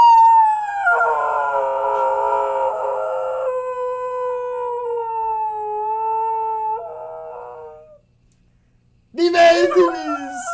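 A dog howls in long, drawn-out wavering tones at a TV commercial, loud and close for several seconds, then falls quiet before voices speak.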